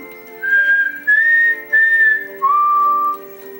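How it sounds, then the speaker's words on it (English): A whistled tune in four sustained, steady notes, the last one lower, sounding close and clear with short breaks between phrases and no talking. "Did I got the whistle stuck in your head now?"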